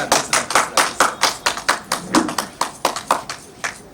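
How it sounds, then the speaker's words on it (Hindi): Hands clap in a steady, evenly spaced rhythm, about four claps per second, close and fairly loud, at a welcoming ceremony for a village sarpanch in a Chhattisgarhi comedy scene. "दे ताली बजाओ भाई ताली बजाओ"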